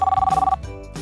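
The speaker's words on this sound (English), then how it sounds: "Then her phone rings." A phone rings in a car, a loud, close electronic trill pulsing rapidly for about half a second before cutting off.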